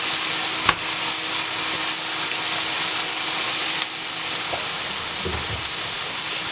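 Pita filling with kidney beans cooks in a hot pan with a steady, close sizzle and frying hiss, broken by a few light clinks and stirring knocks.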